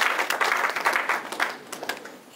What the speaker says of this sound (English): Let's give Mr. Cook another round of applause